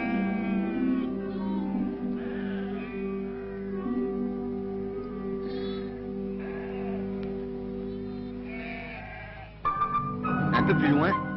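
Sheep bleat repeatedly on a pastoral hillside in Algeria, tended by young shepherdesses, the calls sustained and fairly close, heard beneath a narrating voice, with a brief burst of other noise near the end.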